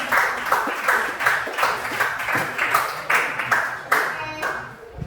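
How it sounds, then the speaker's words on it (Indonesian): Students in a classroom applaud after a group presentation, a short run of clapping from a small group in fairly even beats that tapers off near the end. "Oke, kita tepuk dulu."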